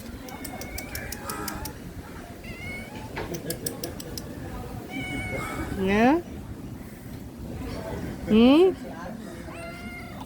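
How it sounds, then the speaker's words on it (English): A small cat meows twice at a beach hotel with cabanas in Negombo, the rising cries close and clear. Birds call in the background and a person speaks quietly between the meows. "Oh, and there's a little cat."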